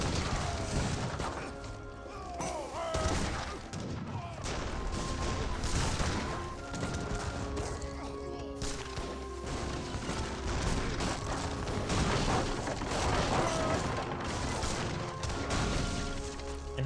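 Dense, continuous rumble of booming cannon fire and crashing impacts from an Age of Empires 3 battle, loud and sustained throughout with no talking.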